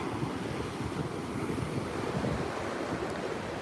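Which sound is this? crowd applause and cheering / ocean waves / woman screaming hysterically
ocean waves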